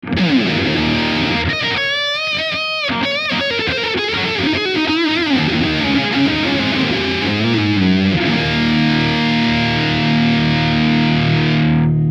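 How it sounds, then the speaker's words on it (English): A heavily distorted electric guitar chugs and wails with thick saturation and long sustain, loud and continuous, with no voices. "I'm getting tons of saturation, tons of gain, and tons of sustain"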